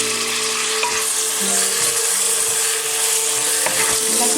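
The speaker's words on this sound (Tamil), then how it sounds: "எல்லாத்தையும் நல்லா வதக்கி எடுத்துக்கோங்க" Tomatoes with Kashmiri chili powder and biryani masala sautéing in hot oil in a pressure cooker for chicken biryani, a close, continuous loud sizzle with occasional stirring scrapes and taps.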